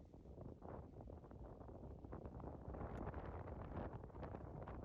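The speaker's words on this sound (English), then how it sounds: "Playing with a lot of wind today." Strong wind buffets the microphone on a golf course in a steady, roaring rush that fills the whole clip without letting up.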